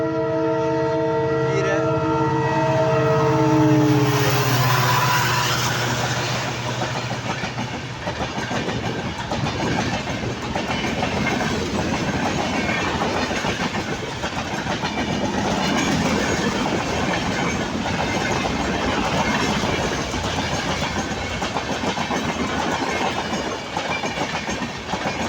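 A train at a railway station sounds a long, loud, harmonic horn blast, then rolls past in a steady, dense rumble and clatter of wheels on track that fills the rest of the stretch.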